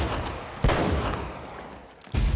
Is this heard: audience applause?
no